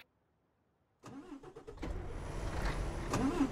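A truck engine in Euro Truck Simulator 2 cranks and starts after a second of silence, then settles into a rising, throaty idle and pulls forward, growing louder, with no talking.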